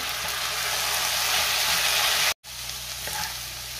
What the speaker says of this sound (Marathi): साधारण 2 ते 3 मिनिटं मी बटाटा चांगला परतून घेतलेला आहे।